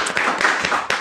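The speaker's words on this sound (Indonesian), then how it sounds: "Minta tepuk tangannya dulu teman-teman." A group of listeners claps for a guest from a community health center's surveillance program, a brief burst of scattered hand claps at close to moderate distance, steady and fairly loud with no talk over it.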